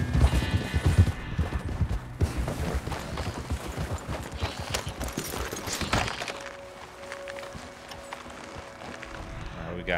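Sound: horse hooves in Red Dead Redemption 2 video game

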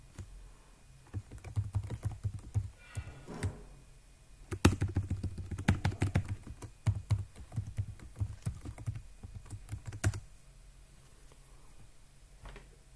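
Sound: typing a password on a computer keyboard

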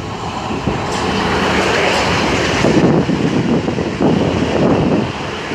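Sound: South Western Railway Class 444 electric train passing

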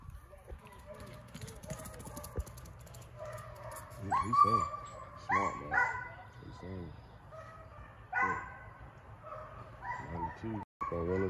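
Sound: dog barking and whimpering

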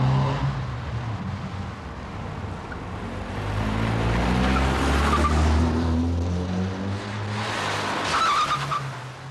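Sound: two cars speeding down a street

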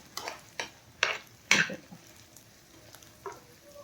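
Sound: stirring fenugreek pickle mixture in a pan

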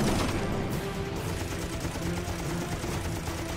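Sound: Wildcat fighter's six .50 caliber machine guns firing a burst

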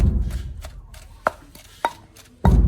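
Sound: pounding ingredients in a mortar

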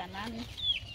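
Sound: hen clucking

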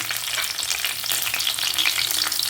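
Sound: shallots, green chili and ginger frying in coconut oil, clay pot

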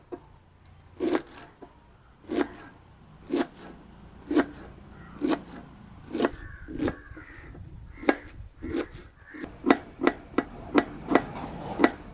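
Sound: chopping onion flowers (spring onion blossoms) into small pieces

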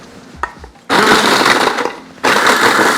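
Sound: grinding bread with dried chili in a food processor

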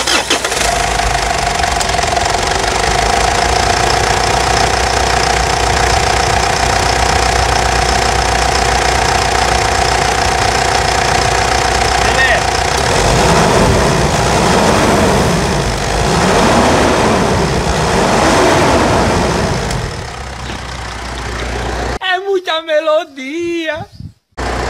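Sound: Mitsubishi Triton 3.2 engine idling

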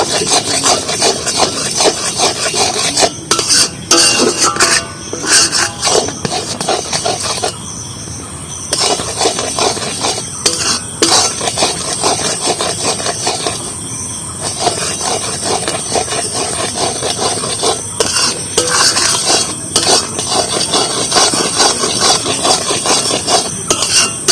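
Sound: stirring jaggery and puffed rice in a pan

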